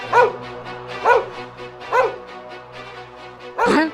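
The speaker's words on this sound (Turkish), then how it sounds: "Lan bizim köpek havladı ya" A dog barks four times at roughly even intervals in Minecraft, the last bark louder, over a quiet synthetic background typical of game audio.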